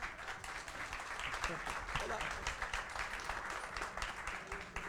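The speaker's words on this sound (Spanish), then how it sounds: "Un aplauso para él." An audience applauds at a panel on rock music, with a dense, steady wash of clapping from many hands that carries on without a break, and voices murmur underneath.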